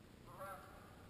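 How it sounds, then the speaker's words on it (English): A single faint Canada goose honk sounds from a distance as geese fly over, brief and soft against a quiet winter outdoor background. "Canada geese flying over there."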